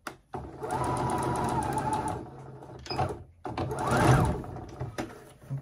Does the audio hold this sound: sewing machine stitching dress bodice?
yes